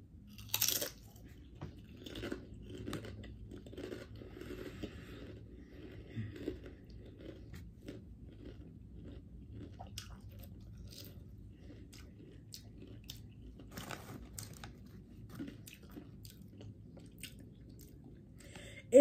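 Doritos Tangy Ketchup and Hot Mustard chips crunched and chewed close up, a series of crisp bites followed by steady, soft, irregular chewing with brief sharp crackles, no talking.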